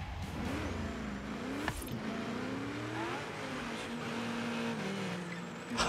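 A car cruising and then braking in Forza Horizon 3 from the cockpit view: a steady engine tone rising and falling through gears, ending in a sharp louder burst.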